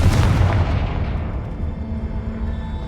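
Fiery Confringo spell blast in the Hogwarts Legacy video game, a loud booming burst up front that rolls into a sustained rumbling decay, with no talk over it.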